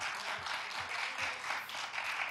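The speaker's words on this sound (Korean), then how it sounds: "응원의 박수를 보내주십시오." Sustained applause from a crowd at a professional billiards semifinal, the Crown Haitai PBA Championship 2023, a dense wash of clapping at even loudness throughout.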